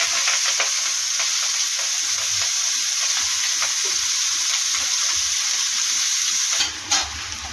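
Onion, green chili and curry leaves fry in hot oil, a steady loud sizzle with bursts of crackle and the scrape of stirring, ending in a brief louder clatter near the end.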